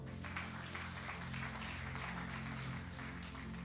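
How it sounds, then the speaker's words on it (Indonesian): A church congregation claps during a pre-Easter sermon service, a steady wash of applause that runs the whole time over sustained, loud music. "Tepuk tangan."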